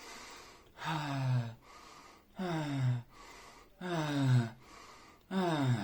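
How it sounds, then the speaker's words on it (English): Someone doing a circular breathing exercise takes four loud, forceful breaths in a steady rhythm, each a rough gasp lasting about a second with quieter pauses between them, heard close up and alone. "try circular breathing"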